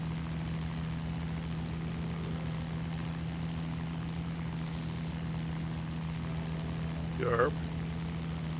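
A warbird propeller aircraft in a flight simulator hums as a steady low engine drone on approach, even and unbroken throughout, with a short spoken interjection near the end.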